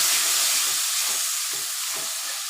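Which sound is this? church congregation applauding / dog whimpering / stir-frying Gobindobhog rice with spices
stir-frying Gobindobhog rice with spices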